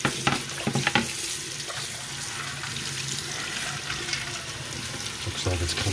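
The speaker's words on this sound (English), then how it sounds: "We're just going to send water in all the directions and make sure" Water sprays through the spray arm holes of a GE Profile dishwasher during a repair check, a steady hissing splatter with a few knocks at the start and a voice talking over it.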